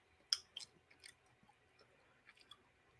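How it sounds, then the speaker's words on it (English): Gum being chewed close to the mouth, giving a quiet run of soft, irregular wet smacks and clicks with a few sharper snaps near the start, over a faint hiss and no talking. "I don't want to keep chewing this shit."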